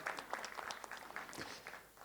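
Audience applause at a film song launch event, steady clapping throughout at moderate loudness, with some crowd noise mixed in.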